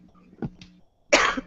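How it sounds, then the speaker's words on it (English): A single harsh cough close to the mic, preceded by a small throat sound. "Sorry, I stopped coughing."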